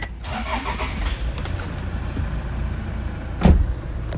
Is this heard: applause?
no